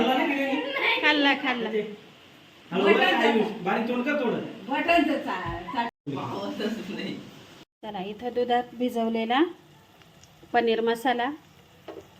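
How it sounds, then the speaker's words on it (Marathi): Masala and salt fry and get stirred in a pan while making a paneer dish. A soft sizzle and occasional stirring sit under nearly constant close talking. "मीठ छान फ्राय करून घ्यायचं इथं परतून घेते मी मसाला छान"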